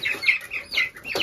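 A few hens, including a rose-combed Dominique, cluck close by on a farm, giving short, repeated clucks in an uneven rhythm with no talking.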